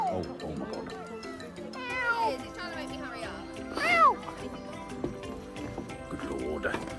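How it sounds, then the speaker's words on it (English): A small, kitten-like cat meow, presented as a "lesser spotted dog cat" in a comic safari nature-documentary setting, rises briefly in thin high cries amid music and talk, with a stronger yowl near the middle. "That can meow. And has a very, very small kitten meow"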